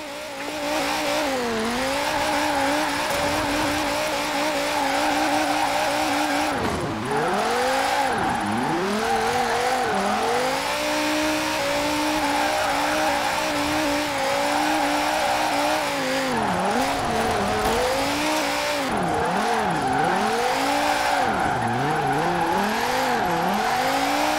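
A Dodge Viper SRT10 drifting in Forza Horizon 4, its V10 engine roaring loudly and continuously with rapid rises and falls in revs as the car slides through corners, tires squealing underneath.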